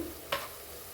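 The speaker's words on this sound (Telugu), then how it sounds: "ఉడికేదాకా చిన్న మంట మీద పెట్టుకొని ఫ్రై చేసుకోవాలి దీన్ని" Mutton frying in a pan over a low flame, a soft close sizzle with one brief louder stir or scrape midway.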